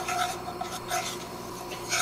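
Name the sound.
whisking a roux in a pan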